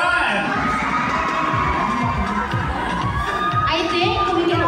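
Loud supporters shouting and cheering together at a school founding anniversary event, many high, excited voices overlapping in a continuous roar with sharp individual yells standing out.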